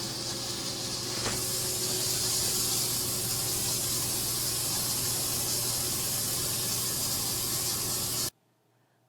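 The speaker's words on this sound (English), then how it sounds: "The 3 swatches tumble in the chambers, tossed around violently by the metal impellers and compressed air to simulate friction caused by wash and wear." A fabric abrasion test machine tumbles three swatches in chambers with metal impellers and compressed air, producing a loud, continuous hiss and whoosh. It runs steadily for about eight seconds, then cuts off abruptly into near silence.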